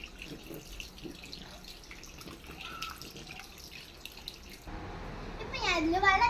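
Water trickling and splashing from a garden hose into a small paddling pool, faint under light background noise, then a louder gush with a voice toward the end.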